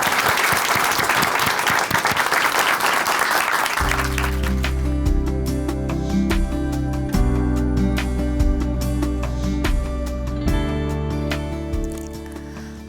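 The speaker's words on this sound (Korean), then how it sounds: "춘천 한마음교회 박현정 자매님 박수로 모시겠습니다" Church congregation applause welcoming a woman to give her testimony at a Chuncheon church, loud clapping for about four seconds, then continuing beneath a swelling sustained musical accompaniment that carries on to the end.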